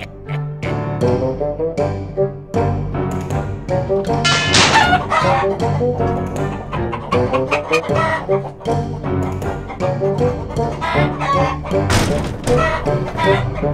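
Toy chickens cluck and squawk busily throughout a Play-Doh stop-motion cartoon, loud and close, mixed with thumps and a lively background of other sounds.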